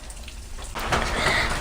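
Rain comes on suddenly and keeps pouring, a dense steady patter close by, with nothing else heard over it.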